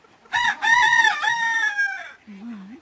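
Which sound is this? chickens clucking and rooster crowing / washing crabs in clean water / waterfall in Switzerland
chickens clucking and rooster crowing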